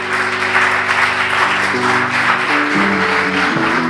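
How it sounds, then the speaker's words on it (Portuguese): A church congregation applauds during a Sunday morning worship service, steady loud clapping from many people blended with sustained organ or keyboard chords playing underneath. "Aplauda ao Senhor."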